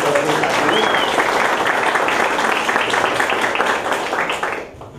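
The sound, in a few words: applause for everyone after a classroom game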